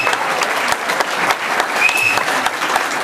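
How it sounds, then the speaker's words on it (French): An audience at a stage performance of a card-game piece breaks into lively applause, crisp claps rising and falling with a brief high whistle partway through. "Alors on va les applaudir tous les quatre."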